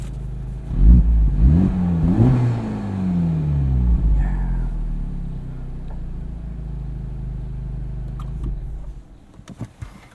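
A 2023 Honda Civic Type R with its front resonator deleted revs up in several quick blips, each rising sharply in pitch and falling away, then settles back to a low, rumbling idle that lasts to the end.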